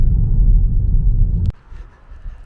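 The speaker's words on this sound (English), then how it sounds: "So we were just driving up the highway" A car cruises along Old US 93 near Dayton, Montana, with a heavy, steady low road rumble inside the cabin that cuts off sharply after a click, leaving a much quieter hum.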